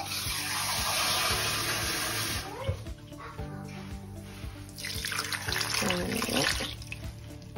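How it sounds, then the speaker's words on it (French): Tap water pours steadily into a cooking pot of snails, a loud, close gushing that shifts in tone as the stream and pot move, pausing briefly midway before the flow resumes. "Là, je vais rajouter juste un peu d'eau."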